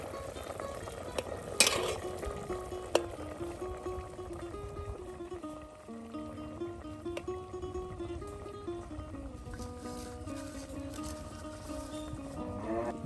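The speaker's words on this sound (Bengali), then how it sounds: "এর জন্য আপনি লাড়া দিয়ে দিতেছেন" Dried fish (shutki) curry is stirred in a pot in a village kitchen, close scraping and clattering over a low sizzle, with a few sharp knocks and faint voices in the background.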